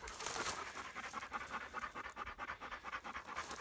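Dogs after an upland bird hunt pant quickly and steadily at close range, a soft rhythmic huffing with faint scratching, with no talking.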